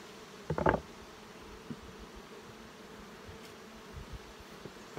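Honeybees buzzing around a hive frame being shaken off outdoors, a soft steady hum with a brief louder burst of close buzzing and a few faint bumps.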